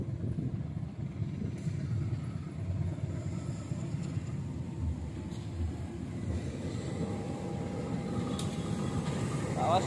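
Rajabasa economy passenger train passing on an Indonesian railway, a steady loud rolling clatter of wheels and carriages lasting throughout, close by, with voices faintly underneath.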